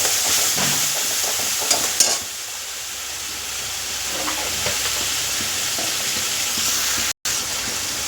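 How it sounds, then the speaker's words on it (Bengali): Spice paste with Kashmiri red chili powder stir-frying in hot oil for a fish dish. A loud, steady sizzle hisses continuously up close, with a few early scrapes of a spatula and a brief dropout near the end. "মশলা খুব ভালো করে কষানো হয়ে তেল ছেড়ে দিয়েছে"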